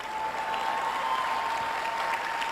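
A church audience applauds in a steady, moderate patter of clapping, heard from a distance with a faint tone underneath and no talk.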